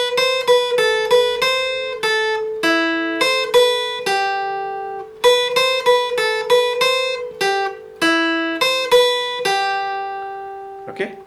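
An acoustic guitar plays a riff, a steady stream of clear plucked single notes repeating in a bouncy phrase, close and alone with no talking.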